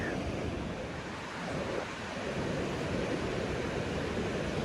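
Kings River flowing in spring along a mountain trail: a steady, broad rushing roar of water, continuous and fairly even in level, with some wind noise and no talk.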